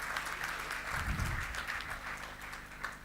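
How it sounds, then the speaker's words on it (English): An audience at an award ceremony claps in a brief, fairly faint burst of applause from a crowd, steady throughout without any speech on top. "please give a huge round of applause to Mr. Khan."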